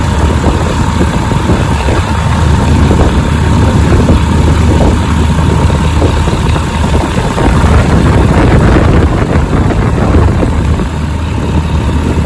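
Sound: strong wind at airfield before a small plane flight

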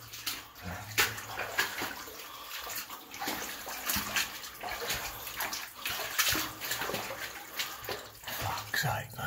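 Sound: water pouring in through a tunnel wall

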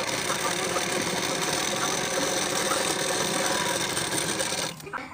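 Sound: sewing machine stitching a blouse, double stitch

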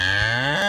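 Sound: cow mooing

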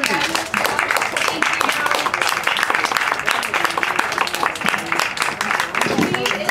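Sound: applause for Julie at a cooking class

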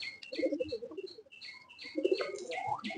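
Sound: Afsan pigeons in a pigeon loft

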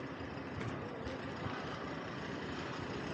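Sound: huge truck about 45 meters long transporting a generator

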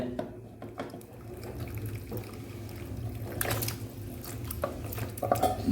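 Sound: pouring goat trotter boiling water into soup

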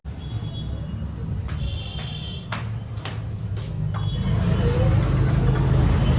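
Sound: street traffic jam with car horns

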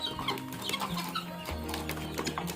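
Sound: guinea fowl being fed

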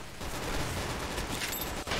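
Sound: gunfire from a gun in Roblox Arsenal video game

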